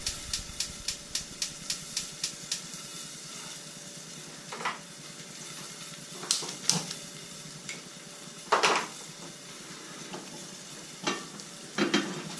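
Butter sizzles softly in a steak pan for a pan sauce, a faint steady frying hiss punctuated by quick rhythmic stirring scrapes and occasional clinks of a utensil against the pan.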